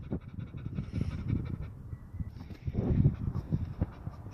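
A tired dog, worn out after a trip to the dog park, pants rapidly and steadily up close, a continuous rhythmic huffing with no talking.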